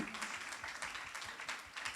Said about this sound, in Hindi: हम चाहते हैं कि प्रभु के दास के लिए हम एक बार ताली बजाकर स्वागत करेंगे